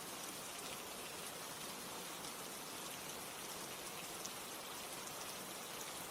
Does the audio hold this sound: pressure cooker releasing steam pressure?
no